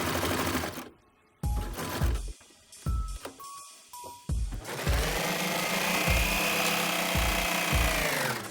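A serger sewing machine chains off T-shirt fabric, with several short bursts of rapid stitching followed by a long continuous whirring run, close and clear.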